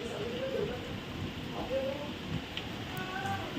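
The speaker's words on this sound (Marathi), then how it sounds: "पावसाला झाली सुरुवात" Rain is just beginning to fall outside a home kitchen, a faint steady patter and hiss with a low background rumble and no clear voices.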